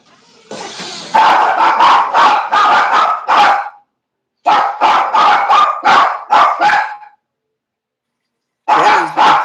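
Several dogs bark loudly and close by in rapid bursts of five or six yips and barks, pausing in silence between volleys before starting again.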